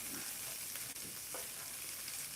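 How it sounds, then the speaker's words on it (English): Frozen corn sizzling in a hot pan with potatoes for a shrimp breakfast bowl, a steady close broadband frying hiss that runs alone without pause. "I'm going to go ahead and add some frozen corn in there for color."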